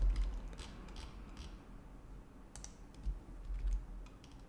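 Faint keys click in irregular little bursts on a computer keyboard, quiet and close, with no one speaking.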